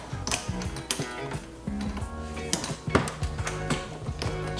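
A garden hose is pushed in and threaded onto a Sun Joe SPX6000C-XR cordless pressure washer, giving close, quiet plastic clicks, ratcheting ticks and scrapes in an uneven sequence.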